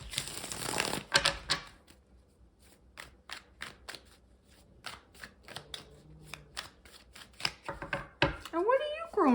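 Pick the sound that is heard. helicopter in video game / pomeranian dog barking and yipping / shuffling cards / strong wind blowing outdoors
shuffling cards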